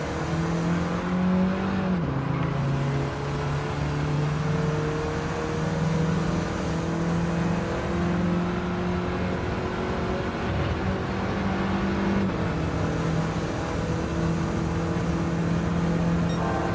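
A race car engine in Gran Turismo, a steady buzzing drone with the pitch dropping in two steps as the car slows for corners, loud and continuous.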